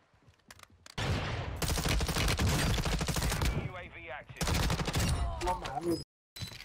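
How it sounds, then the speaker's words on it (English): Rapid assault rifle fire in the Warzone 2 shooter game, loud dense bursts of gunshots lasting several seconds with brief pauses and a final short burst, no talk over it. "I got somebody shooting me from my left."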